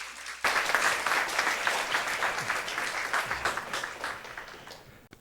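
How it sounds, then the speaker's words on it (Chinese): An audience at a church lecture breaks into applause to welcome two pastors, a sudden dense burst of clapping that stays steady and gradually thins before it stops. "用掌声来欢迎Pastor Ken 还有许成的牧师"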